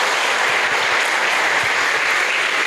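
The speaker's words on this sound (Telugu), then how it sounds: "అందరికీ గట్టిగా చప్పట్లు కొడదాం మనం" Audience at a business training meeting applauding, a loud, dense and steady burst of many hands clapping together, continuous throughout.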